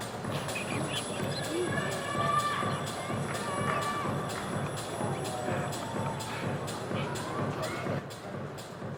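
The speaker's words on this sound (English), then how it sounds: "And did you hear the crowd there? They loved it." Rugby stadium crowd at a Japan versus Hong Kong final, roaring and cheering after a try, a dense steady wall of voices throughout with some talk mixed in.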